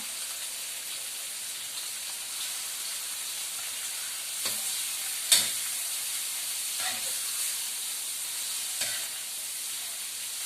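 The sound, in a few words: shrimp added to hot pan, sizzling while stir-frying with broccoli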